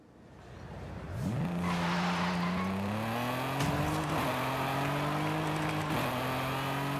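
A car driven in the video game Forza Horizon 5 starts up and accelerates with rising engine tones that shift through gears, then holds a loud, steady drone for several seconds.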